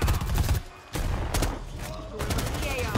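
Gunfire in the video game Predator: Hunting Grounds, with a burst of rapid shots up front, a brief lull, then further loud volleys and sharp cracks over a couple of seconds.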